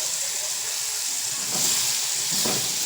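Potatoes sizzle loudly in a hot pan, a steady crackling hiss that swells briefly as they are stirred.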